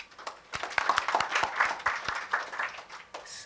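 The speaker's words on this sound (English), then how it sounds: "Applaud to her." Scattered clapping from a conference session audience, sparse and uneven with individual distinct hand claps rather than a full roar, fairly quiet overall.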